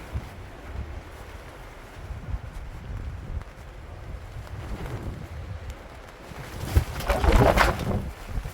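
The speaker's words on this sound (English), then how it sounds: "What was I saying about the wind?" Strong outback wind in the Western Australian bush near Kookynie buffeting a microphone, a steady rumbling roar that builds into a louder, harsher gust in the last two seconds, with no talk.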